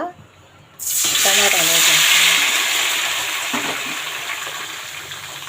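Chopped tomatoes hit hot oil in a pan with a sudden loud burst of sizzling that stays strong and slowly eases, with brief clinks of utensils early on.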